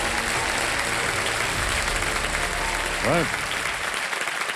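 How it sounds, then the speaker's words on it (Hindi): A studio audience on a televised quiz show applauds a homemaker contestant, with steady clapping running throughout and a voice speaking briefly over it. "ताली बजाते हैं आपके लिए।"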